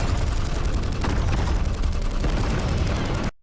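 Gunfire in the animated Warhammer episode The Exodite, as dense, continuous rapid fire and booming impacts, loud and close, cutting off abruptly near the end.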